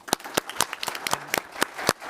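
Sparse, scattered claps from a small audience at a Pinole city council meeting, a handful of separate sharp hits spread over two seconds rather than a full ovation.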